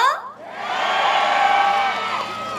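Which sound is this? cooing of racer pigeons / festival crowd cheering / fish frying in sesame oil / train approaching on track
festival crowd cheering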